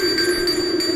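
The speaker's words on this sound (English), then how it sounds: "Creepy bell ringer." A creepy bell ringer Halloween decoration chimes steadily, a sustained ringing tone with a few brief pulsing strikes throughout, fairly loud and alone.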